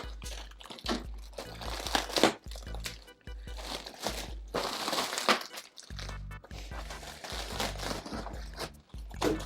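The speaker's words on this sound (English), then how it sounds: "Protected the keyboard with cardboard." Cardboard packaging being handled while unpacking a keyboard, with repeated close crinkling, crunching and scraping rustles in irregular bursts across the clip.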